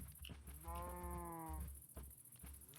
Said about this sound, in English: So we're definitely going to need some cows in here.